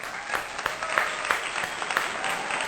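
Applause from a small group, a steady patter of claps with brief louder bursts, no voices over it.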